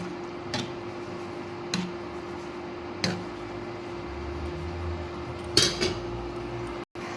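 Spoon stirring salt into a fish curry simmering with eggplant and potato in a metal pot, with a few sharp clinks against the pot at irregular intervals over a steady low bubbling hum.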